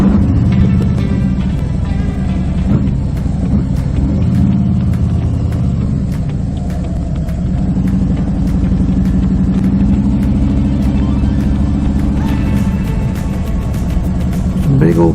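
A motorcycle carrying two riders cruises along Old Route 66, its steady mid-pitched engine rumble and wind noise continuing throughout, with people talking over the ride.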